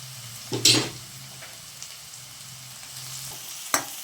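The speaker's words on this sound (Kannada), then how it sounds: "ಅರಿಶಿನ ಪುಡಿ ಹಾಕಿ ಫ್ರೈ ಮಾಡ್ತಾಯಿದ್ದೀನಿ." Onions with turmeric powder fry in a pan, giving a soft, quiet sizzle broken by two sharp stirring clatters near the start and the end.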